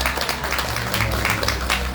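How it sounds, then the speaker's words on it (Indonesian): Audience applause at a World Kidney Day talk show marking the opening of a home care service, a dense wash of clapping throughout with a voice mixed in. "tepuk tangan untuk kita semua"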